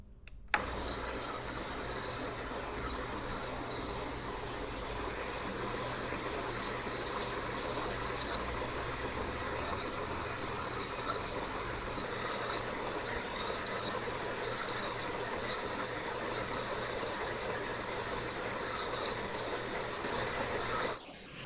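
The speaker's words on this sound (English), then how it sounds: "So I'm going to need both hands to put it on the polishing machine." A polishing machine grinds a geode sphere with 100 grit, a continuous loud whirring, hissing grind that holds steady from start to finish with no talk.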